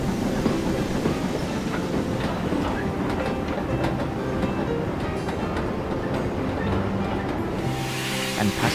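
A train rolls steadily along the rails, its continuous rumble broken by rhythmic clickety-clack of wheels over track joints.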